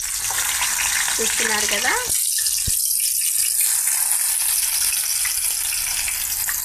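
Raw banana pieces drop into hot oil and start frying, a steady broadband sizzle running throughout with a brief sharper splash near the start, while someone talks over it.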